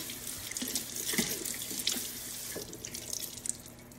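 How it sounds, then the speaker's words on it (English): Asparagus spears rinsed under a running kitchen tap, with a steady stream of water splashing into the sink throughout and small irregular splatters as the spears move in the flow. "Now I'm going to wash the asparagus"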